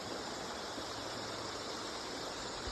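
Water in a creek flows steadily, a continuous close, soft hiss and burble with no pauses or voices.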